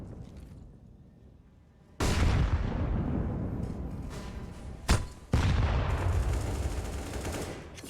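A grenade blast in a Counter-Strike match on the Overpass map, a sudden loud boom that rolls off into a long noisy rumble, followed by a second sharp burst and another sustained roar, no voices.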